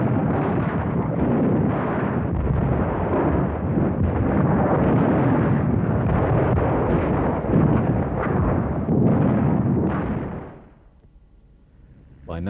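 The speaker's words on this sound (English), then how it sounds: "In this sequence, Stugs are being employed as artillery in an anti-guerrilla sweep in Yugoslavia." StuG assault guns fire as artillery during an anti-guerrilla sweep in Yugoslavia, a continuous heavy roar of booms and rumbling blasts lasting about ten seconds before cutting to near silence.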